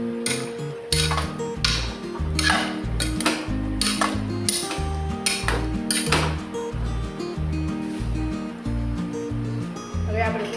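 A spoon stirs boiled vegetables and salt for Mumbai-style pav bhaji inside a metal pressure cooker, giving repeated close clinks and scrapes against the pot over steady background music.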